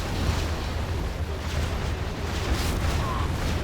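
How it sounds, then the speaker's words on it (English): An anthrax bomb detonates in a real-time strategy video game, producing a continuous heavy roaring rumble with scattered crackling bursts throughout. "There's the Anthrax bomb, by the way."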